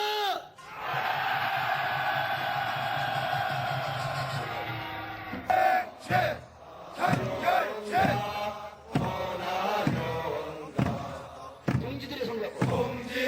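A crowd of ready-mix concrete construction union workers at a rally lets out a loud, sustained collective shout lasting several seconds. Then a single voice speaks over an amplified sound system in short bursts.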